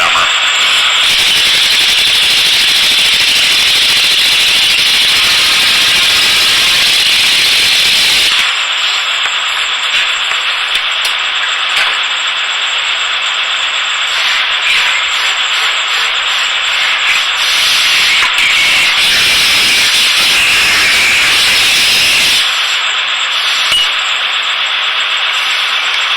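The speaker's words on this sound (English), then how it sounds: "he further compacts the sand with an air rammer" Loud, continuous rattling rasp of a pneumatic air rammer compacting foundry sand in a mould, the tone changing in texture partway through and persisting without pause or voices.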